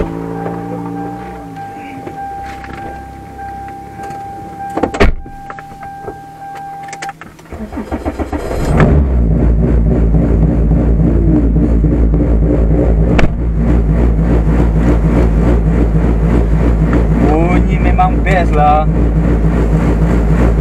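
A Toyota Corolla AE111 sedan with a 2ZZ engine, four throttle bodies and a six-speed manual cranks and starts after quiet cabin sounds, then settles into a loud, steady idle and running drone.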